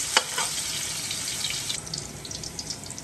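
Chopped garlic frying in a pan for a coconut-milk crab dish, a steady hissing sizzle with a sharp crackle at the start, close and continuous without talk.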